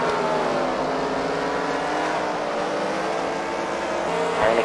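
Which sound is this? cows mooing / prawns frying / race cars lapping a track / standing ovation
race cars lapping a track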